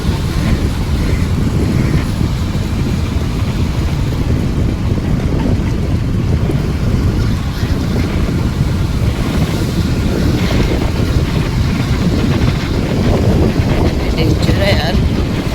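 Wind buffets the microphone at a seashore with houses right beside the water, while sea water and waves roar steadily and loudly throughout. Voices may be faintly present underneath.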